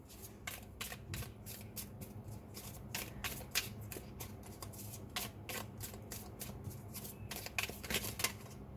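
Tarot cards being shuffled by hand, a rapid run of crisp riffling snaps and flicks close up, repeating in bursts throughout with no talking.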